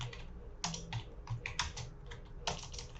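Typing on a new computer keyboard: clusters of close, crisp key clicks in irregular bursts, fairly quiet, with no talking.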